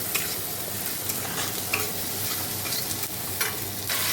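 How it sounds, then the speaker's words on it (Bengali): Cumin, coriander powder and Kashmiri chili powder sauté in a pan with a continuous soft sizzle, punctuated by scraping stirs and occasional sharper clinks of the spatula. "দেখো সব মশলা দিয়ে দিয়েছি জিরে ধনের গুঁড়ো একটু কাশ্মীরি লঙ্কার গুঁড়ো দিয়ে কষছি"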